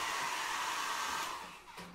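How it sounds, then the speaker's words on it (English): Hair dryer running on low, a steady close airy whoosh with a motor whine that tails off slightly near the end, no voices. "So we'll try the hair dryer"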